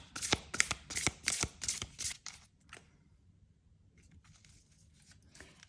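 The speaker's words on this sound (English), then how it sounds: "again, shuffle it," Oracle cards shuffled by hand in a burst of crisp, rapid riffling strokes, close and loud, fading to quiet handling noise after about two seconds.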